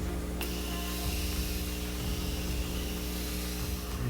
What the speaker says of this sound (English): I'm going to be using the Morphe Continuous Mist Setting Spray.